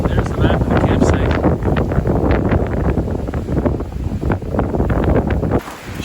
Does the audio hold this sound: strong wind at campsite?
yes